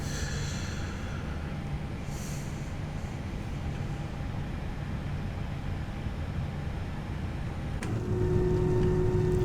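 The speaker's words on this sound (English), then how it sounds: "Love the sound of the engine spilling up on the A320." An easyJet Airbus A320 engine spools up in the Prepar3D flight simulator. A steady, loud roar holds throughout, and a rising whine joins near the end.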